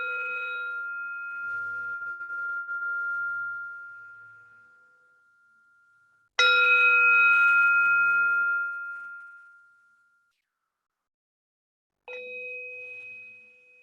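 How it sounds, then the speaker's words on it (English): A meditation bell rings at the close of a guided session, struck three times; each clear sustained tone hangs in quiet air and slowly fades, the last strike cut short, with no voice. "And then tuning into the sound of the bell."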